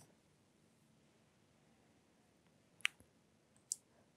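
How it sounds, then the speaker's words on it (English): Two sharp mouse clicks on the add button of a certificate page in ArcSight Logger software, close and clean, spaced under a second apart near the end of an otherwise near-silent stretch. "you will need to click the add button"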